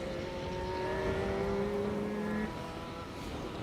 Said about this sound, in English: Simon Mellings, Carl Ellis, 1400 Vauxhall Corsa.